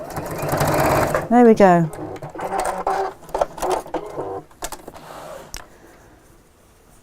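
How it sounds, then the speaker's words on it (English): A home sewing machine stitches over a short section of fabric in a quick whirring burst, then stops as someone talks throughout, with soft handling clicks afterward. "let's just sew over that one little bit"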